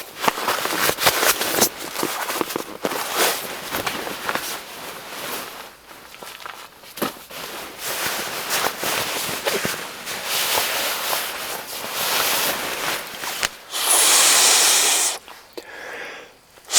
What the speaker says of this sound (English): just enjoy this little campfire